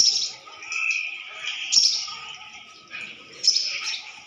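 Baby sparrows chirping in a nest in high, thin bursts, several overlapping cheeps rising and falling in repeated clusters, close by with no talking.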